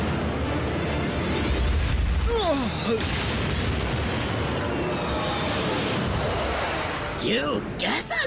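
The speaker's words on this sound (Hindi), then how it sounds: "कैसा लगा ये धमाका?" An explosion rumbles in a Transformers Prime cartoon episode, dubbed in Hindi: a dense, sustained roaring blast with debris and whooshing effects, with a voice crying out over it near the end.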